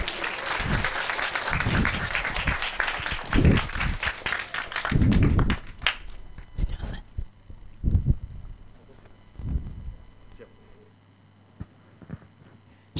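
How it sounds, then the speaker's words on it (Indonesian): An audience at a speech event for Jusuf Kalla applauds with dense, steady clapping mixed with low thumps, then the clapping thins into scattered claps and fades out. "Kita beri aplaus yang meriah."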